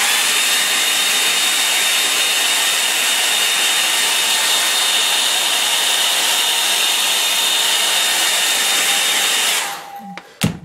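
A hair dryer blows steadily and loudly over a wet watercolour painting of a calm lake scene, drying a tree, a continuous whirring rush that cuts off abruptly near the end.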